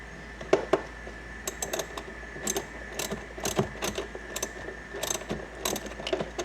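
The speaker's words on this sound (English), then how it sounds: "We're using a 10mm wrench to get the bolt off." A 10mm wrench loosens a bolt inside a car during a dash cam install, giving repeated close ratcheting clicks in short irregular bursts over a steady low hum.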